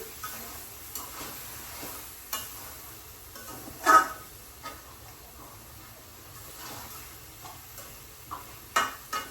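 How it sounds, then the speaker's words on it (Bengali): Pumpkin and large prawn curry being stirred in a pan, soft low sizzling with scattered scraping and tapping of a spoon against the pan, one louder knock midway. "তরকারিটা এখন এসে লেড়ে চেড়ে দিতেছি"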